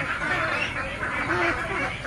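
A busy flock of young laying ducks quacks and honks continuously on a farm, close and fairly loud, with overlapping calls and no speech.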